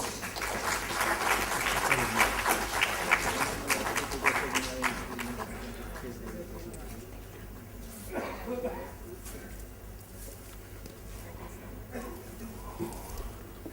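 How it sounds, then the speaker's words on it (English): An evening lecture audience applauds the speaker with a burst of dense clapping that lasts about six seconds. The clapping then thins and fades out, and someone begins talking over the last of it. "Let's give her a huge round of applause."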